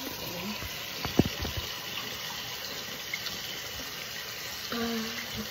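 Water runs from a bathroom sink tap in a steady, hushed stream, a morning sink being filled after tooth brushing, with a few soft knocks and clatters but no talking.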